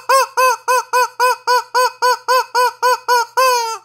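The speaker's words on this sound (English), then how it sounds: "That's why we use these chicken chokers all the time for when they have this." A chicken choker noise device gives about a dozen loud, close, nasal honking squawks in a steady even rhythm, the final one drawn out longer, with no talking.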